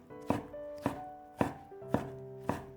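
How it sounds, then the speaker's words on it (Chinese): Five evenly spaced knife chops on a cutting board as shredded, squeezed radish is cut up coarsely, each thud sharp, close and clear, with a faint tonal hum running beneath and no talking. "挤好之后放到案板上切碎，不需要切得太碎"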